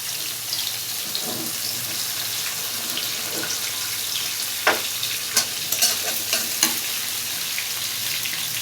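Onions frying in a pan for a koi fish and okra curry, with a steady sizzle and a few sharp stirring scrapes from the utensil near the end, close and moderately loud, no talking.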